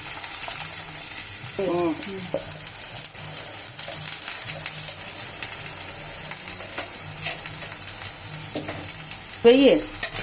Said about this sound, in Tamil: சின்ன வெங்காயம் கட் பண்ணி வச்சிருக்கேன், போட்டுக்கலாம். பாதி வதங்கிடுச்சு. சின்ன பூண்டு சேர்த்துக்கலாம்.